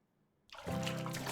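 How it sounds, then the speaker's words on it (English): Water starts splashing and pouring in the visual novel Aokana, a bathroom-like scene, and then runs as a steady, full rush after a brief quiet moment. "I hear water splashing."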